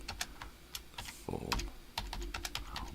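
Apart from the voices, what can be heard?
typing on a computer keyboard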